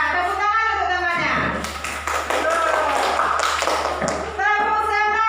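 Indonesian fourth-grade classroom children clapping for classmates, a rhythmic patterned group clap mixed with children's chanting voices, moderately loud and near.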